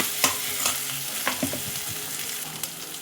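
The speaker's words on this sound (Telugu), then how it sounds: "అల్లం వెల్లుల్లి పేస్ట్ వేసి ఒకసారి బాగా కలుపుకుందాం." Ginger garlic paste sizzling in hot oil while a spoon stirs it, with scraping clinks against the pan repeating every half second or so over a steady, close frying hiss.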